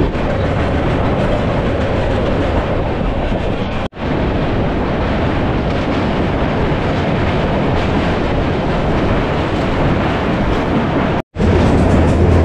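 Dhauli Express train on the Puri to Santragachi line running along the rails, a loud, continuous close rumble with rhythmic clickety-clack and wind buffeting, briefly cut twice.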